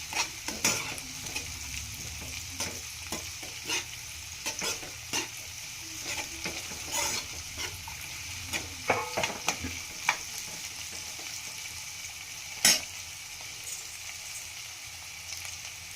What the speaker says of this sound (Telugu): ఈ ఎగ్స్ మనం ఇప్పుడు దాకా ఇట్లా వేయించి పెట్టుకున్నాం కదా, దాన్ని వేసేసి కొంచెం ఇలా కలిపేసుకొని